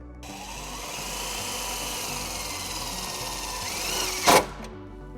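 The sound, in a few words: driving self-tapping screw into Jeep Wrangler body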